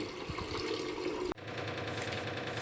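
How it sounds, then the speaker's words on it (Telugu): Rice being washed and soaked in water for biryani, with close, steady splashing and running water and one brief knock midway. "ఇప్పుడు ఇవి కడిగి బియ్యం నానబెట్టేసుకుంటాను"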